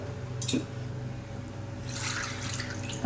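Soaked tamarind is squeezed by hand while its water drains down, giving soft wet squishing and trickling sounds, close and moderately quiet against a faint steady hum.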